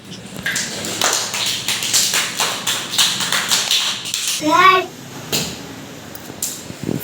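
Young children clapping together in an anganwadi classroom, a quick run of many small hands patting in rough rhythm, with a voice and a brief whoop breaking in.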